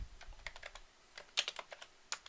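Computer keyboard keys pressed for a Ctrl+K, S shortcut while coding an ASP.NET project, a quick series of crisp, close clicks in two bursts with short pauses between them.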